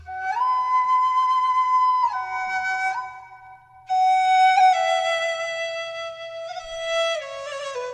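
Two ethnic flute samples layered together, playing long sustained notes that slide between pitches, with a soft low hum underneath and a brief dip midway.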